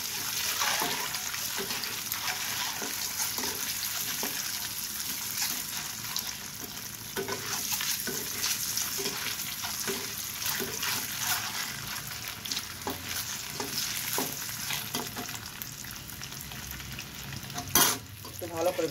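Eggs sizzle and crackle steadily in hot oil for an egg dal, a continuous close frying hiss with occasional spatters and stirring, and no talk over it.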